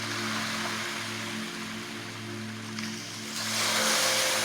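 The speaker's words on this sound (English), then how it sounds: "The calm sea laps over the pebbles at our feet, seeping forward in a flurry of white foam." Gentle sea water washing over a beach of large, smooth round pebbles, a steady soft wash that swells louder near the end with hissing foam.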